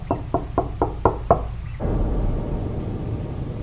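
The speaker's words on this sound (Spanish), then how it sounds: "Me pareció haber escuchado unos golpes en la puerta" Knocking on a door as a horror sound effect, six sharp evenly spaced knocks in quick succession, loud and close, followed by a low dark rumbling ambience.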